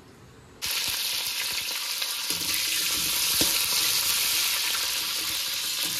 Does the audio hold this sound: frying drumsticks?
yes